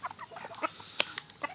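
Backyard farm chickens crowd around feed of corn bran mixed with pellets, giving short close clucks and squawks while they jostle, a rapid overlapping burst with no talking.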